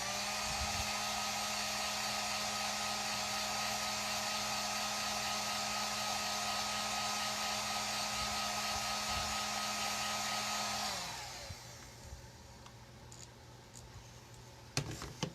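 A hair dryer blows steadily and loudly, close by, drying chalk paste on a home decor face mask holder, then cuts off near eleven seconds, leaving faint room noise and a few light knocks.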